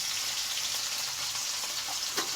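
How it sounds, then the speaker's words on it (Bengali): Potatoes and onions frying in oil, a dense close sizzle with bright crackling spatter across the whole stretch and a faint knock near the end, no voices. "একটু ভালো করে ভাজবো।"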